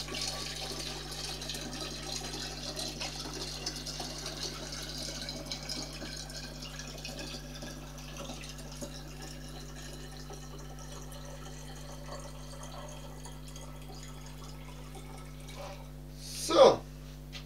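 Warm tap water fills a bottle with a long, faint, steady trickle that grows quieter over time, ending in a brief louder gurgle or clunk near the finish.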